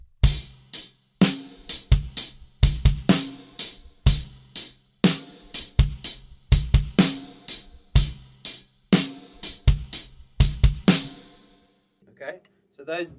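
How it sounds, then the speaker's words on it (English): A heavy drum groove, with two kick drums hit together on the last sixteenth of beat three, played as loud, punchy repeating strikes with cymbal wash that stops and leaves a short quiet tail. "So we're going to have 2 kick drums together."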